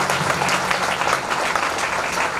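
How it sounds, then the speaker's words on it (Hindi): Loud, sustained applause from a large audience at a devotional Gita discourse gathering, dense steady clapping filling the whole stretch without pause. "जोरदार ताली बजाएं उनके लिए।"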